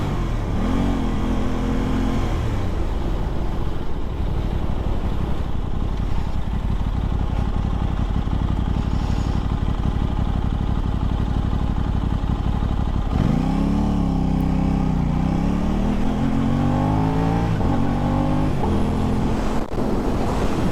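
A 2023 Aprilia RS660 sport motorcycle engine runs loud and close while riding, a constant buzzing drone with revs rising and falling through several gear changes, under heavy wind rush.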